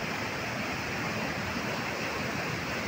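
A river in flood near Devthan, fed by water from the Adhala dam, rushing in a steady, broadband roar with no breaks throughout.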